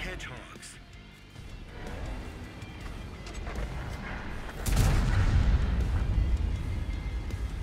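Heavy booming cannon shots in a video game, a deep rumbling blast swelling midway over continuous game noise and a talking voice.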